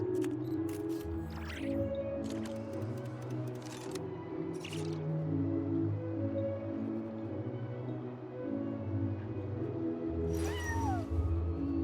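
A game cat named Ashru, perched on a shop counter, lets out a few short meows over a steady bed of low ambient music and room tone, with a longer drawn-out call near the end.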